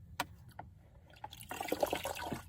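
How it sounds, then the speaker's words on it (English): Hot water splashing and pouring in a bucket used for cleaning an animal's cuts, a brief liquid sloshing burst after a few faint knocks, fairly quiet and close. "A bucket of hot water. I do hot to warm water."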